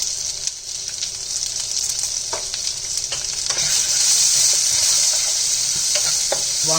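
Onions and green chilies frying in a hot pan while being stirred, a loud continuous sizzle with intermittent scraping of the utensil, no voices.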